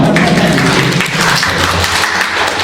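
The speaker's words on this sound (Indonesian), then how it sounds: "Tepuk tangan." Applause from teachers during a school training session, a dense steady patter of many hands that fills the whole stretch at close range with a slight dip midway.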